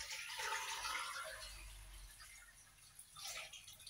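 Water runs steadily from a tap into a pot to cover jars of home-canned tomato preserves, a quiet continuous splashing fill.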